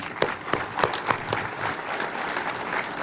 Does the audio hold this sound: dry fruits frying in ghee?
no